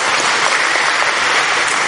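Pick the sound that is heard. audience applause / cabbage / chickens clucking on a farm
audience applause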